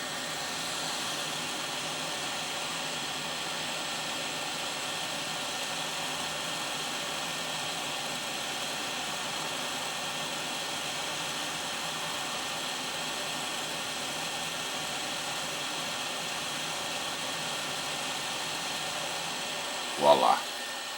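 A hot air rework station blows a steady, even hiss of air on a TV/DVD combo circuit board, moderately loud and constant throughout, with a brief clatter near the end.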